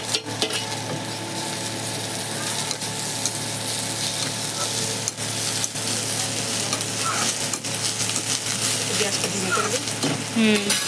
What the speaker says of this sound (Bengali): উচ্ছেটা ভালো করে ভাজতে হবে, কড়কড়া করে লাল লাল করে দেবে